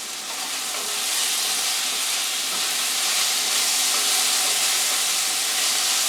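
Onions fry in a pan ahead of steak being added, giving a loud, steady, close hiss of sizzling that runs unbroken without any talking.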